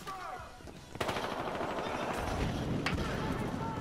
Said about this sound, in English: you can pick up a freaking machine gun